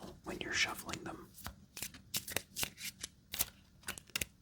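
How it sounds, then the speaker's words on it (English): Plastic playing cards are shuffled up close in quiet surroundings, producing a run of crisp riffling bursts followed by sharp separate snaps and flicks. "These cards also have a very interesting sound to them, as well as an interesting feel when you're shuffling them."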